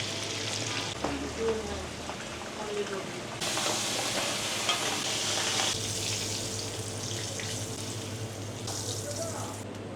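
Dried red chillies sizzle in oil already used to fry hilsa fish, giving a steady, close, hissing crackle that swells and eases in loudness throughout.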